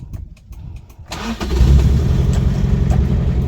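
A 1978 Toyota KE35 Coupe Hardtop with its 4K engine and 5-speed gearbox cranks briefly, catches about a second in, then settles into a loud, even idle close by.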